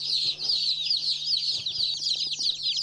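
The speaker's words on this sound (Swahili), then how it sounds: "Na kuku wake sawa kabisa." Chickens on a farm cluck and chatter continuously in a busy, overlapping flock at moderate distance, with a faint steady hum underneath and no one speaking.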